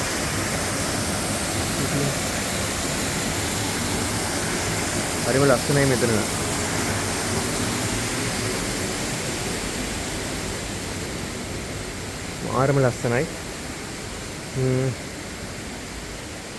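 Steady rush of a flowing water stream running past a hotel among trees, continuous and broadband throughout, with a voice briefly speaking over it twice.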